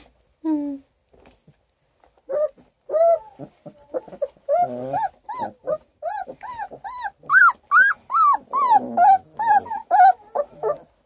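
Tired 3.5-week-old Coonhound mix puppies give off a run of squeaky whimpers and yips, close and fairly loud, coming in rapid bursts one after another, with a few low grumbles mixed in.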